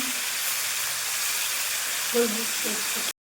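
Sweet pumpkin frying in a pan, a steady soft hiss and sizzle that continues evenly at moderate level, with a brief faint clink near the end before the sound cuts off abruptly.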